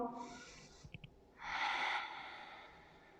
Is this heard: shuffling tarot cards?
no